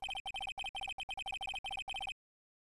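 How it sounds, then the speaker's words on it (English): An Ace Attorney video game phone rings in rapid electronic double trills, repeating in clear bursts for about two seconds before stopping dead into silence. "I heard a phone ring just now."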